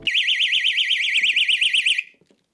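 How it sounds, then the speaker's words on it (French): A personal safety alarm on a Japanese school backpack is pulled and shrieks loud and close with a rapid warbling tone for about two seconds, then cuts off with faint clicks and handling noise behind it. "Une petite alarme également. Regardez si je tire là-dessus."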